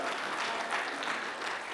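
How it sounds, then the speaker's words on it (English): Brief, steady applause from an audience at a voice-over convention in Norman, Oklahoma, a dense wash of clapping lasting under two seconds with no speech. "Give them a round of applause for doing this"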